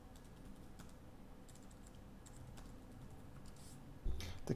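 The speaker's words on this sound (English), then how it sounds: "The keyboard, I'm not sure how much I like it. It's not very snappy" Fingers tap steadily on the keyboard of a Thinkpad X1 Extreme laptop, producing quiet, soft, slightly gummy clicks at close range, with a couple of louder knocks at the end.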